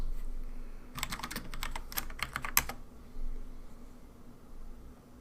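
A burst of quick keystrokes on a computer keyboard clatters for under two seconds, then stops, leaving quiet room hiss.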